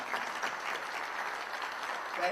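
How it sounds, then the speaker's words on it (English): A crowd at the Tempe All City Awards ceremony gives a steady, even round of applause for the families, holding at one level throughout. "Let's give a little round of applause for the family."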